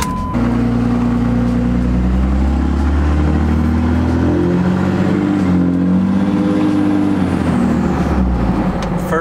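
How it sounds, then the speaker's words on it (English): Dually diesel pickup truck driving, a loud, deep engine rumble with throttle rising and falling and gears changing, heard up close and continuous throughout. "I'm going to attempt to take this truck for a drive."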